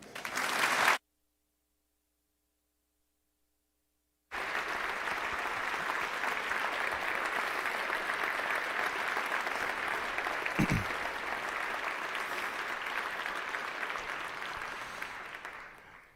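An audience claps in sustained, steady applause welcoming Nate Silver at a University of Wisconsin La Follette School of Public Affairs event, loud and even for about twelve seconds after a brief silent gap.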